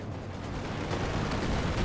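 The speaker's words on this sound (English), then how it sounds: "I'm calling in a heavy artillery barrage. calling in an airstrike." Heavy artillery barrage and airstrike in Company of Heroes 2 on a bridge map: a dense, continuous rumble of distant blasts and gunfire rolls on steadily for the whole moment, fairly loud with no voices.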